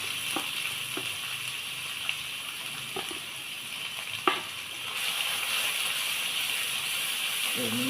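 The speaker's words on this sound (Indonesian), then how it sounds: "Sekarang kita tumis bumbunya." Blended spice paste sizzles and fries steadily in plenty of oil for an Indonesian curry, a constant close hiss with a few soft clicks and stirring knocks.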